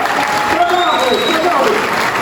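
Audience applause during a carnival evening show by VV De Gangmaekers in Haelen, a brief, steady wash of clapping with a voice and faint tones over it.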